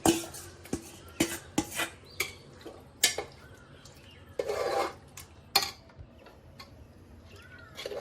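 Yogurt-marinated chicken with ginger-garlic paste, salt and chili powder goes into a pot of fried onions with scattered metallic clinks, taps and scrapes of a utensil against the pot, plus a brief rustling burst, all close and fairly quiet.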